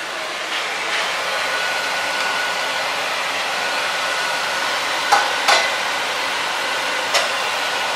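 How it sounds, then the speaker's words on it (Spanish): Shredded chicken cooks in a pan of tinga stew, giving a steady, even sizzle with a few soft scrapes and stirs near the end, no talking. "Entonces procedemos a echarle el pollo"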